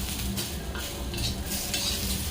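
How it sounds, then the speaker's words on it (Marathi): Onion, tomato, garlic and ginger roasting in a pan for a spicy mutton curry, with a steady close sizzle and scraping stirs throughout, no voices. "आपला कांदा टोमॅटो लसूण आलं खूप छान भाजलेला आहे"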